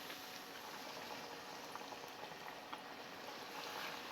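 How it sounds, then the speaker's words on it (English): Pieces of Endorian tip-yip hit a hot pan, giving a dense, steady sizzle of frying that fills the whole stretch at moderate loudness, with no talking over it. "Now we're gonna put it into our pan that's been heating up."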